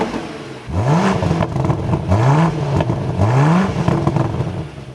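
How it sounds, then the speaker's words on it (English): A 2025 BMW Alpina XB7's V8 engine fires up and is blipped three times, each rev sweeping sharply upward and falling back, loud and close with a rumbling idle between. "Now let's start this up and take a listen to how this V8 sounds."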